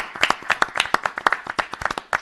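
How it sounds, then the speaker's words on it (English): An audience applauds Yorktown's police chief Robert Noble at an award presentation, a close, crisp round of individual claps with distinct sharp hand strikes in an uneven rhythm. "let's give him a big round of applause"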